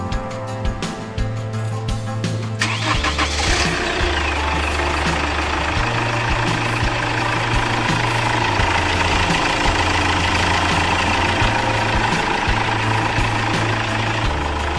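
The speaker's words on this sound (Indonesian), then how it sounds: "Nah, sekarang kita hidupkan mesinnya." A Chevrolet Captiva diesel, model NFL AWD, being started after a timing belt replacement in a workshop. A brief cranking catches into a loud, steady idle with a gruff, slightly knocking diesel clatter, and no one speaks.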